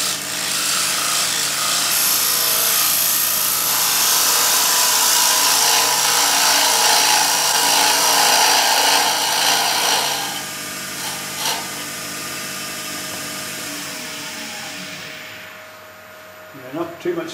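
A gouge cutting laburnum wood on a lathe while a natural-edge vessel is turned, a loud continuous rough shearing hiss that drops away after about ten seconds, leaving softer scrapes and taps as the cut stops.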